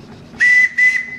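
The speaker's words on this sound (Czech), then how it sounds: "Můžeš si klidně zatáhnout tady za píšťalku?" The whistle on a working model steam engine gives two short, shrill toots in quick succession, close and clear against a quiet background.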